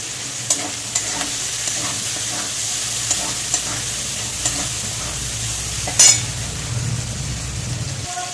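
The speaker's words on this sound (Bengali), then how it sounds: "চিংড়ি মাছ ভেজে তুলে নিয়েছি।" Shrimp fry in oil with turmeric and salt, giving a steady close sizzle. Regular light taps and scrapes of stirring run through it, and one sharper clink comes near the end.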